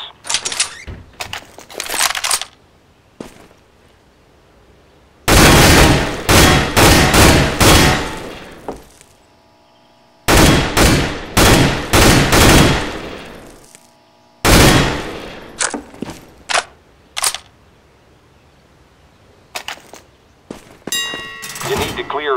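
Counter-Strike: Global Offensive weapons training course: loud bursts of automatic gunfire in several clusters, each a rapid string of sharp shots, with quiet pauses and fainter clicks and reload clatter between them.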